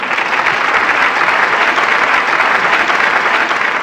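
A studio audience at a televised Vietnamese quiz show claps steadily for the contestants, a dense, loud, even wash of applause with no voices over it.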